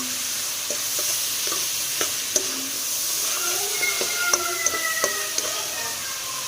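Chinese vermicelli fries in a pan with a steady hiss of sizzling oil, broken by close sharp taps and scrapes as it is stirred, with a few faint squeaks near the end.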